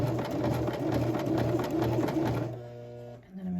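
A sewing machine runs steadily while stitching the seam of a shirt collar, a fast even motor whir that slows and stops near the end as the fabric is pivoted.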